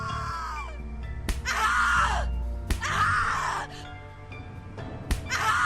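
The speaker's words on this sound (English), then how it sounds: "Scream louder, little bitch. Scream your lungs out." A woman screams repeatedly in The Cat Lady video game, three long anguished cries broken by sharp slaps or hits, over a low droning music bed with brief gasps between them.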